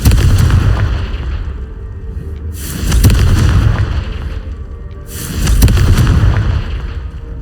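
Confringo fire spell blasts in the Hogwarts Legacy video game, three loud booming bursts a couple of seconds apart, each with a crackling tail.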